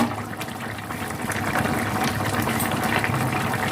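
A pot of Bengali fish curry with tender banana stem simmering on the stove, giving a steady bubbling, watery boil at moderate level throughout, with no one talking.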